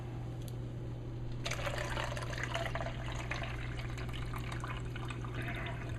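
Liquid drained from canned sweet corn pours into a container, a close, steady trickling splash that starts after a quiet moment and runs on evenly over a low background hum.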